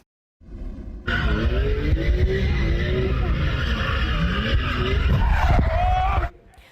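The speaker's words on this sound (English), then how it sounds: "CBC aired this video of an unsanctioned car rally" Cars skid with squealing tires at an unsanctioned car rally, loud and sustained engine roar and tire screech building and holding for several seconds before cutting off abruptly.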